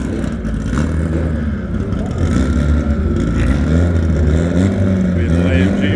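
Drag racing car called Goldie, rebuilt with winter upgrades, rumbling and revving up loud and close as it pulls forward, with people talking over the engine.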